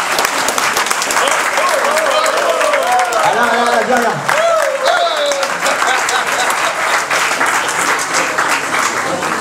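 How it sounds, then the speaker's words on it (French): Audience applause for the staff after a Vanves match, sustained broadband clapping with a crowd roar throughout, while someone speaks briefly over it. "j'aimerais bien qu'on les applaudisse tous aussi"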